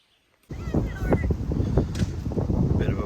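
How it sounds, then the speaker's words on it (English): Strong gusty wind at a beach buffets the microphone with a constant low rumble, starting abruptly and roaring throughout, with faint voices underneath. "Bit of a windy day at the beach today."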